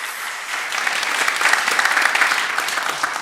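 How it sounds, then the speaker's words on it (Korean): Steady applause from a church congregation at a Sunday afternoon service, a dense wash of many hands clapping at an even level for a few seconds. "다시 한번 뜨거운 박수 부탁드립니다."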